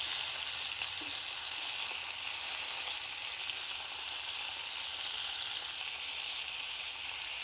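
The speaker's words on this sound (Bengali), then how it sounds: "তো মাছ এক সাইড ভাজা হয়ে গেছে" Rui fish fry in oil in an iron wok, giving a steady, even sizzle with a faint stir or two and no voices.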